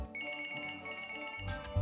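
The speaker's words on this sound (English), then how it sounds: "Our video contains an unwanted sound, a ringing phone." A telephone rings with a steady, tonal electronic ring that holds for nearly two seconds, quiet and alone, ending in a brief thump.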